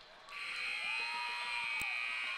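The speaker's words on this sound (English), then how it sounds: "And with that buzzer, that is the end of the ball game." The game-ending buzzer at a girls' high school basketball tournament game blares as one steady, loud electronic tone that lasts about two seconds over faint crowd noise in the gym.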